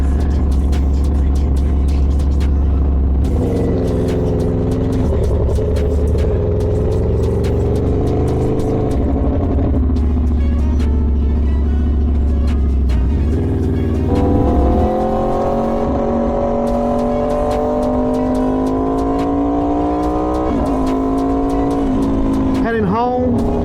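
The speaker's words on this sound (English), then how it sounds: "Just give you little sound bites of what this pipe sounds like." Aprilia Tuono V4 motorcycle fitted with an LV Corsa carbon exhaust, revved repeatedly, the engine note rising and falling through several strong pulls at close range, with a rider talking over it.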